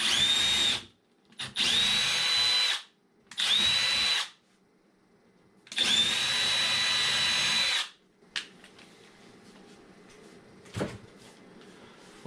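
A power drill bores into a kitchen drawer front to mount an IKEA Bagganas handle: four loud, close bursts of whining spin with pauses between, followed by quieter knocks and handling sounds.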